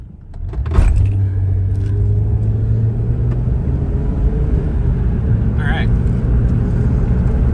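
A 2005 Ford Escape pulls away after a hard stop, its steady road rumble and low drivetrain hum running continuously under a brief spoken word, with a faint jingle of keys near the start.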